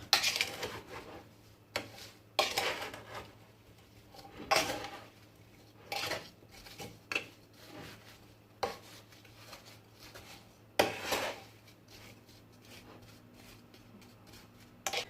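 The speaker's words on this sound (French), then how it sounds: "Je vais juste le mélanger un petit peu pour que mes fraises s'enrobent, pour bien les enrober de sucre." Strawberries are tossed with sugar in a pot for jam, with soft, scattered spoon scrapes and clinks against the pot in irregular bursts, quiet and close, with no talking.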